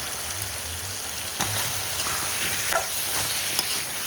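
Vegetables sautéing in a pan for a karunai kizhangu (elephant foot yam) curry, a continuous close crackling sizzle with occasional stirring scrapes, no talking.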